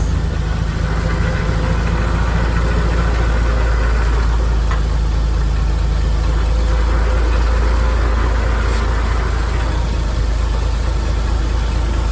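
Forklift engine running steadily as the machine is driven, a constant low, rough drone with faint knocking, loud and unbroken, with no talking.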